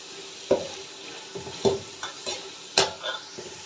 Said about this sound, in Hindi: इसको हम अच्छे से मिक्स करेंगे, भुनाई करेंगे थोड़ी सी